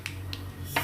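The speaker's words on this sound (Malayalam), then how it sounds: "കടുക് പൊട്ടി വന്നിട്ടുണ്ട്." Three sharp, separate pops come from mustard seeds bursting in hot oil for Kerala-style rava upma. They are spaced irregularly over a faint steady background hum, and no voice is present.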